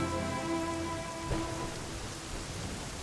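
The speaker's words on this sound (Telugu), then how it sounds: "వర్షం తగ్గిన తర్వాత వెళ్ళు" Steady rain falling, a continuous broadband hiss that holds at an even level throughout, with a soft low rumble and faint tonal music in the background.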